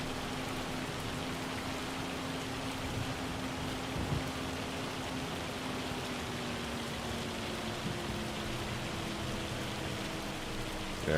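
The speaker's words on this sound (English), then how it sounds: "hail has now switched to rain." Steady rain falls in Farming Simulator 25 after a hailstorm, a constant even hiss of drops with a faint low hum underneath and no voices, continuous throughout.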